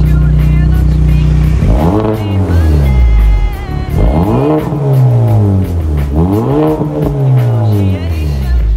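Ford Focus MK4 ST fitted with a CGW stainless steel valved exhaust and downpipe, revving loudly in repeated rising and falling sweeps, close up, with music or voice faintly underneath.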